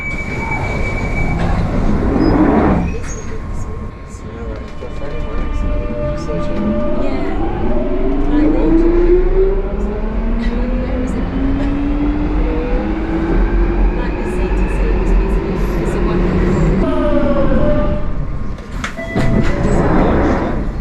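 A London Underground train rumbles loudly up close at Waterloo station, wheels squealing with rising and falling metallic whines, while an announcement voice speaks over it.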